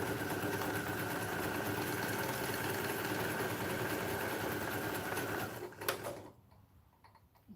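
A sewing machine hums and rattles continuously at steady speed, close and fairly loud, then slows and stops near the end, leaving near silence.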